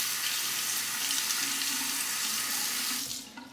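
Tap water runs steadily into a sink for about three seconds while a heavy Parker 66R safety razor is rinsed mid-shave, then cuts off abruptly near the end.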